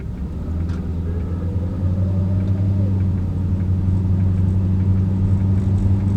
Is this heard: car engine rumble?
yes